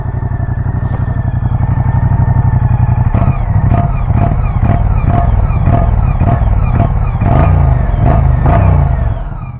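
A 2024 Moto Guzzi Stelvio motorcycle idles loudly and close by, then its engine is blipped in a series of sharp throttle revs at roughly regular intervals, each one rising and falling quickly.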